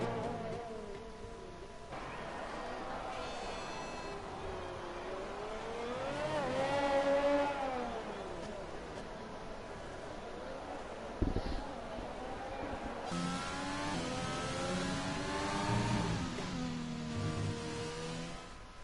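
Several race car engines revving and pulling away at the start of a racing game race at a Mexico circuit with McLarens on the front row, a droning engine roar rising and falling steadily under a commentator's talk.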